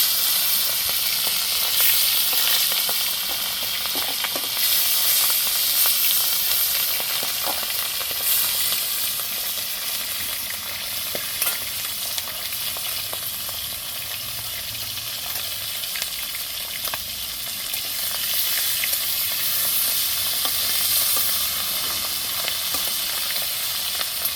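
Fish sizzling in hot mustard oil in a home kitchen wok, a steady broadband hiss and crackle that runs loud and unbroken throughout with occasional sharper spits, no voices.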